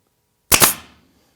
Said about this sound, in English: Take a pinner, take my nail gun, my little pin nail gun, put one in here.